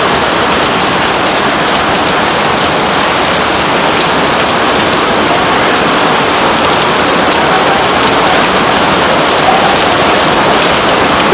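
Heavy rain pours onto a garden during a storm, a loud, dense, unbroken hiss of water hitting leaves and ground at close range, with no voices.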